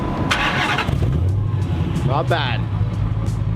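A 392 stroker 5.7 Hemi car engine starting up and settling into a mild rumbling idle, close by, with people talking briefly over it.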